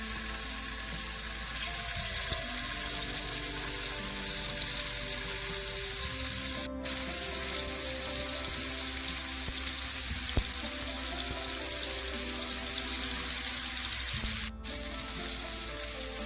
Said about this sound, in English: To a hot pan, add more coconut oil, and we are going to fry the chili based marinated fish